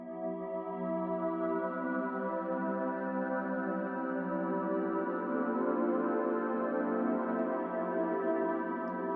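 Ambient sample processed through a convolution reverb with a blurred, washy preset, heard as a steady, dense sustained tonal drone with layered harmonics that holds evenly for the whole stretch, with no talking.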